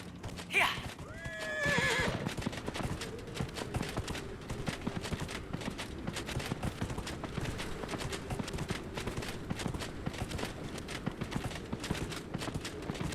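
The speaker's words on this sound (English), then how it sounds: "Horsey time. Give me some horsey speed." A horse in the video game Dragon Age: Inquisition whinnies loudly at the start, then gallops in a fast, steady clip-clop rhythm under faint game sounds.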